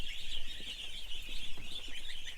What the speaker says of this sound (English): cute ducklings. People want to watch cute ducklings live. There's so many in here.